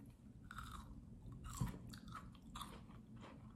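Crunchy crystal candy (kohakuto), dragon fruit flavour, chewed close up, with several crisp bites and crackling crunches over a quiet background.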